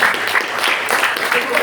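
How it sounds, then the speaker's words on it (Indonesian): A church congregation at a Sunday service claps loudly and continuously, a thick wash of hands filling the hall without pause. "Mereka tepuk tangan bagi Tuhan."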